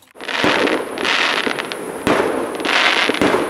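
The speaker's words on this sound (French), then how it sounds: "c'est encore la fête nationale, Suisse. Donc tout le monde fait péter des feux d'artifice." Fireworks go off during Swiss national day celebrations, a series of sharp loud bangs followed by crackling bursts that repeat several times, near and with no talk.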